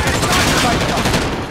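Rapid submachine gun fire in Call of Duty: Rebirth, a dense, loud, continuous rattle of shots packed close together over a short burst.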